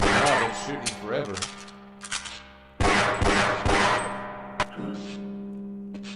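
Gunfire from the Half-Life video game, sharp broadband shots bursting in repeated clusters over a steady low game hum, with ringing metallic clangs between volleys and a loud renewed burst midway.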